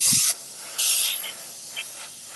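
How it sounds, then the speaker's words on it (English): A steam cleaner blasts hissing bursts onto a car's surface. There are two strong sprays, the first short and the second longer, followed by a few faint spurts, all close and loud with no talk. "Let's get a little steam over here."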